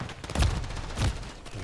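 Gunfire in Call of Duty Modern Warfare 3 ranked multiplayer, a short burst of rapid shots with two heavier cracks, fairly quiet and muffled with no talking over it.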